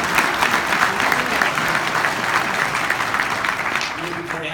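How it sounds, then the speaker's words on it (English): A large lecture audience at a university event applauds the security staff, producing dense, sustained clapping that fills the room at steady loudness for several seconds, with a faint murmur of crowd voices underneath. "a round of applause for the security"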